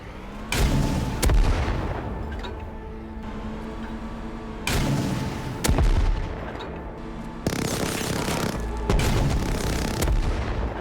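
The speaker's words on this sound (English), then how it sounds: "Every rocket I shot here could be heard from extremely far away." Rocket launcher fire in the video game Rust on an icy lake setting: several heavy booming blasts arrive in pairs, each with a sharp crack and deep rumbling tail, over a steady low drone.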